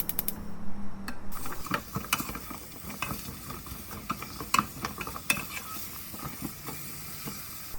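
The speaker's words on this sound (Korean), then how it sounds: "참기름 1스푼을 넣고 무를 볶아주세요." Radish pieces stir-frying in sesame oil in a pan, a steady soft sizzle with scraping and stirring clatter throughout, close and fairly quiet, no talk.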